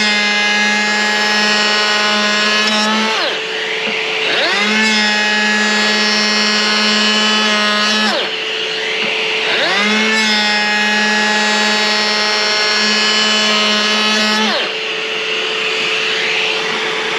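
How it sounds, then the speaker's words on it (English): A Milwaukee M12 brushless cordless planer shaves wood at 1/64 inch with a vacuum running on high, a loud steady whine that dips and recovers with each of several passes, continuous throughout with no talk. "we're going to turn the vacuum back on to high, and let's get planing."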